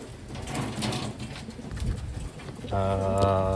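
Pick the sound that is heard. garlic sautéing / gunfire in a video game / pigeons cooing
pigeons cooing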